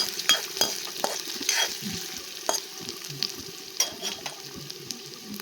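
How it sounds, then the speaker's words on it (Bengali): Chopped onions frying in hot oil and being stirred around a pan over low heat, a steady soft sizzle broken by irregular scraping strokes of the spatula, close and alone with no talk. "দিয়ে পেঁয়াজটা ভালো করে একটু নাড়াচাড়া করে লাল লাল করে ভেজে নিতে হবে।"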